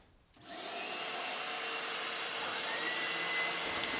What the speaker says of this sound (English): these spindle sanders is that the bobbin is spinning anti-clockwise